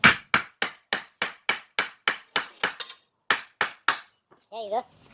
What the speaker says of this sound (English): use the piece of wood and hammer to take that off.